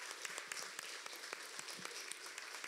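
Audience applause at a children's song festival gala, a steady wash of many hands clapping continuously with scattered sharper claps, moderately loud and without talk.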